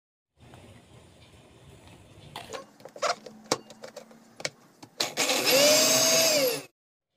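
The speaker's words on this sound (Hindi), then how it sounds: "अब हम इसकी चटनी पीस लेंगे" Mixer grinder grinding a chutney of green chilies, garlic and coriander, first with short uneven pulses and clatter, then a sustained high whirring run that stops abruptly.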